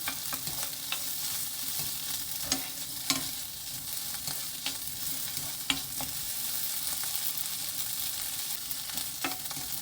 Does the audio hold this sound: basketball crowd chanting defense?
no